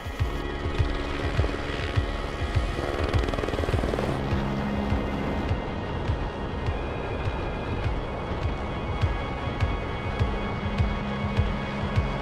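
Firefighting helicopter carrying a water bucket circles back overhead, its rotor beating in a continuous rapid chop with a steady engine whine, loud and sustained for the whole stretch.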